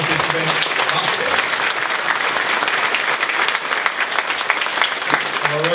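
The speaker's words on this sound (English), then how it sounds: "A collective round of applause for all those who helped make this event possible" Audience at a mayoral debate applauding the event volunteers and helpers, a sustained, even burst of many hands clapping, with a voice briefly audible at the start and end.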